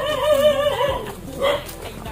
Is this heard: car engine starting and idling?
no